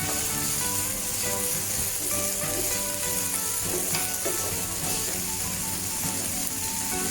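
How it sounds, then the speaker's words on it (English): Onions and mushrooms sautéing over medium heat, a constant close sizzle with scraping and stirring sounds of a utensil moving through the pan, loud and continuous. "keep flipping and stirring over medium heat"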